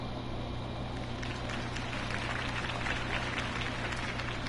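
Crowd applause and cheering after a mayoral campaign speech in the video game Batman: The Telltale Series, a steady wash of many hands clapping that swells slightly midway and carries on without any talking.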